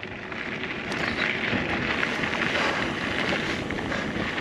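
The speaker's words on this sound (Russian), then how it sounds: "А вот и встречный ветер." Strong wind gusts roar against the microphone, a steady broadband rush that swells slightly and holds.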